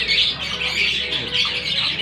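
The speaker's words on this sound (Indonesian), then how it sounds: "Nah, ini jalak suran Jawa ini." A Javan pied myna (jalak suren) calls at a bird kiosk, giving harsh, squawking, chattering notes close and loud, repeated in uneven bursts with no talk.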